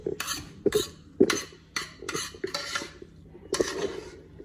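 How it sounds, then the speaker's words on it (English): Creole rice being scraped from a skillet into a serving dish, with repeated sharp clinks and clatters of a metal utensil against the pan, several knocks in an uneven rhythm, close and distinct, no talking. "I'm gonna transfer it from the skillet to the dish."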